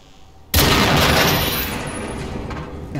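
A single sharp gunshot from a weapon in the survival shooter GenZ cracks out suddenly after quiet, loud and close, followed by a long decaying echo with no speech.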